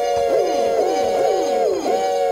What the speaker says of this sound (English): What about the barred owl?